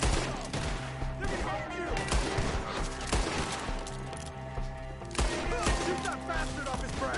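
Dense, steady gunfire from a Red Dead Redemption 2 shootout in woodland, with repeated shots rattling throughout under music, and a shouted line of speech partway through.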